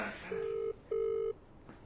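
Telephone ringback tones from an outgoing call that goes to voicemail, two steady rings close and clear with a short gap between them.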